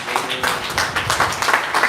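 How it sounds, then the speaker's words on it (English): A crowd at a live wellness product session claps, a short, loud, steady burst of applause heard up close. "Give yourselves a round of applause."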